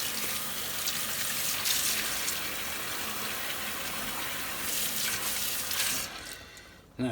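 Tap water runs steadily over Hoover Junior Dirtsearcher vacuum cleaner lens parts being rinsed in a sink. The flow is close and continuous for several seconds and cuts off near the end.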